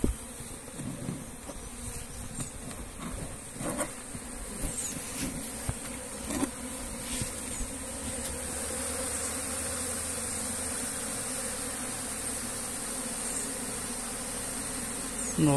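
A dense swarm of bees buzzing around a bait hive box at a rural smallholding, a continuous close, loud hum with wingbeat drones rising and falling, alone without speech.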